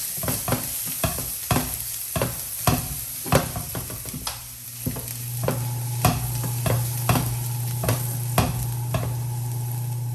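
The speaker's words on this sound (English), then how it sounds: "Now I'm gonna go in with my garlic." Garlic frying in extra virgin olive oil in a pan, a steady sizzle with repeated sharp scrapes and clacks of stirring that come in an uneven rhythm throughout.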